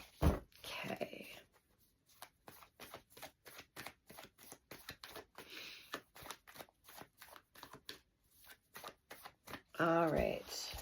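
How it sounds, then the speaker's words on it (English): Rapid riffling card shuffles, crisp papery bursts repeated in quick succession, close up, with brief pauses between shuffles. "I just want to give you a couple shuffles on camera"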